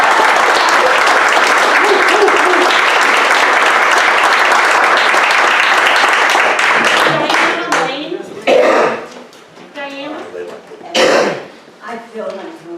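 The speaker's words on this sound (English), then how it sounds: "You might even hear applause when you get things done." Crowd applause at a baseball game, a dense roar of clapping for about seven seconds before it breaks off into nearby talk and scattered voices.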